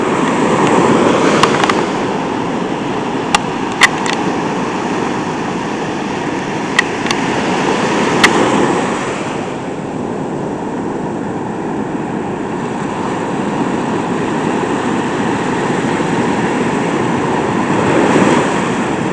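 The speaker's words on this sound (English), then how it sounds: "Some pretty big waves out there." Big ocean waves breaking and surging on a shoreline, a loud continuous wash of surf with a brief lull partway through, heard alone without talk.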